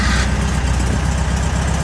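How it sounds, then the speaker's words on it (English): A classic Volkswagen engine, hooked to a diagnostic box, runs loud and close in a steady low rumble, the sound of a start settling straight into an even idle. "I then can hit the engine start button,"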